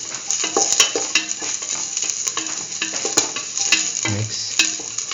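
Chillies fry in hot oil for a curried mustard okra stew, with a bright crackling sizzle and repeated scraping stirs of a spoon against the pan, close and busy, with no talking.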